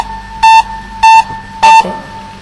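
A timer alarm beeps three times in an even rhythm, each short steady electronic tone loud and close, separated by brief pauses over a faint background hum.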